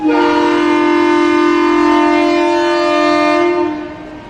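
A train at a railway station sounds a long, loud, steady horn blast lasting several seconds before it fades off, with no talk.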